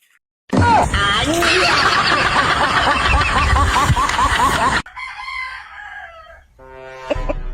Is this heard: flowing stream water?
no